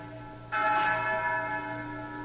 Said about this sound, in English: ring the bell, Inez